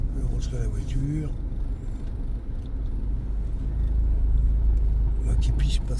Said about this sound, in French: Je vais rentrer la voiture.